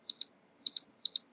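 Mouse clicks on a tile in a computer sliding puzzle game, three quick double-clicks that are close, crisp and light, with silence between them.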